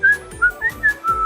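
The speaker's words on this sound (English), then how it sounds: "I can whistle" Short whistled notes, five quick bright tones in a halting, uneven pattern, close and clear.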